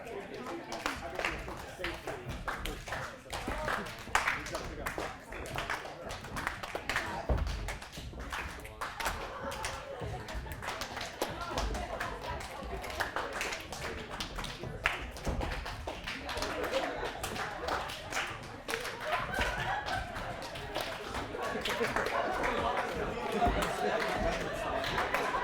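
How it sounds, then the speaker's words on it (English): An audience at a keynote talk snaps, claps and stomps in a repeating three-beat rhythm, a dense, busy patter of many hands and feet filling the room throughout, with scattered voices mixed in. "1's a snap, 2's a clap, 3's a stomp."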